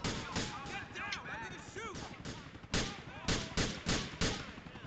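Gunfire in the video game GTA 4: rapid bursts of shots in uneven clusters, loud and close, with a voice now and then among the shots.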